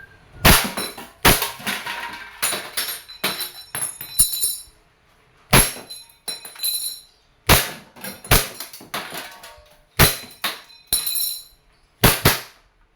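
WE Airsoft Glock 17 Force Series gas pistol with a silver slide firing repeatedly: about a dozen sharp, loud cracks in irregular bursts, each snapping report followed by a brief metallic slide clack, with quiet gaps between shots.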